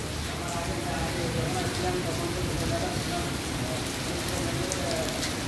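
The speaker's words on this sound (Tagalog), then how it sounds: "Sabi kanina pang umaga umuulan" Steady rain falls outdoors onto a street during a storm in the UAE, a continuous even hiss of drops with faint background sounds throughout.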